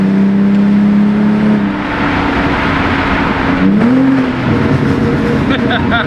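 A loud, tuned BMW E46 325Ci engine with added burbles and retarded timing revs and drones, pitch rising and falling, with crackly exhaust pops near the end.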